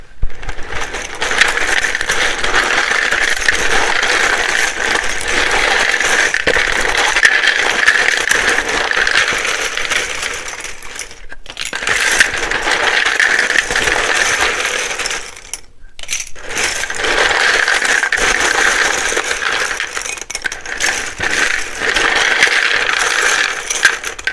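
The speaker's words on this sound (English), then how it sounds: "It can be very loud when I shuffle these." Tarot cards being shuffled, a loud, close, continuous riffling rattle in three long bursts separated by two brief pauses, with no talking.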